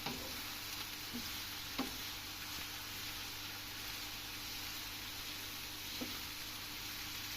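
Onions sautéing in oil in a pan for a Sinop-style onion and walnut börek, a steady soft sizzle with occasional stirring clicks, close and alone with no talk.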